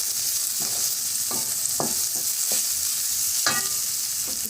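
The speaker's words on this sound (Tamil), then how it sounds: "இப்போ நம்ம மஞ்சள் பொடி, கீரைக்கு தேவையான அளவு உப்பு வச்சு ஒரு கிளறி விட்டுட்டு" Fried onions stir with turmeric powder and salt in a hot pan, a constant hissing sizzle under a series of soft spatula scrapes every half second or so, nearby with no speech.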